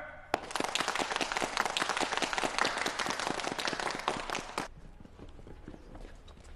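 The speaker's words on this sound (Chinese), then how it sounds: "来，我们鼓掌欢迎新同志" Soldiers in a squad clap together to welcome a new recruit, a dense burst of close, loud applause lasting several seconds before stopping abruptly, leaving quiet room tone.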